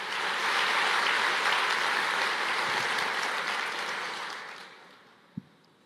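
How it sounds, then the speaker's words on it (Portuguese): Church congregation applauding together in a broad, steady wash of clapping that fades out toward the end, followed by a single sharp knock. "aplauda ao Senhor"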